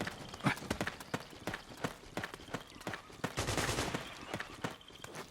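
Dense gunfire rattles through a Metal Gear video game battle, with rapid repeated sharp shots and bursts crowding over each other in a near, loud fusillade.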